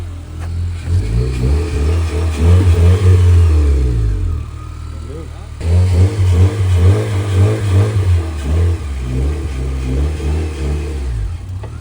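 A 9th generation Honda Civic Si engine revs loudly up and down in two long pulls, the rising and falling drone close by with people talking over it.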